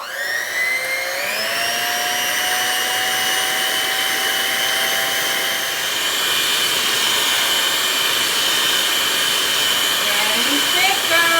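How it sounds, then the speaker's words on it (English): Electric mixer with a whisk attachment whipping cream, a loud, continuous high-pitched motor whir that climbs in pitch early then holds steady, close up with no talking. "we're gonna start off using our whisking attachment and we're gonna blend this until it becomes whipped cream"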